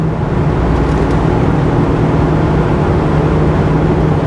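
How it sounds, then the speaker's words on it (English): A steady, low engine drone with a smooth exhaust rumble from a 1997 Ford Mustang Cobra, constant and fairly loud, as if heard from inside the car while driving. "Just has a little bit of an exhaust tone to it."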